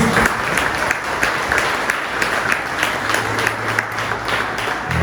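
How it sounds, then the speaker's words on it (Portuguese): A church congregation applauds loudly and steadily throughout, dense clapping filling the room with a low hum of voices and a faint sustained tone beneath. "Você pode aplaudir o Senhor bem fortinho?"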